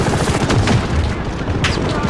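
Enemy machine gun fire in the Call of Duty Modern Warfare campaign, a dense rattling fusillade of rapid bursts that keeps going throughout with sharp transient shots, loud and busy in a battle scene.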